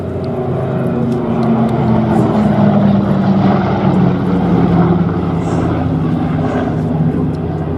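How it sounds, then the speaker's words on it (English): A Douglas DC-3 Dakota piston airliner banks through a turn, its engines and propellers giving a loud, steady rumbling drone that swells slightly midway, with a voice faintly present beneath. "you need four arms to be able to pull this kind of turn on a DC-3"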